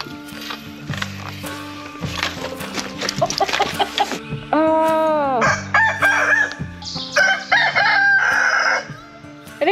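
Several roosters crow on a homestead, repeated loud calls overlapping from midway on, with hens clucking and cackling throughout at close range.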